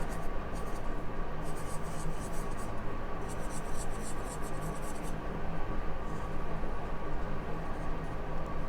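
Marker and pen scratching across paper while doodling cartoon faces, steady close-up scribbling strokes in short bursts over a constant low hum, no talking.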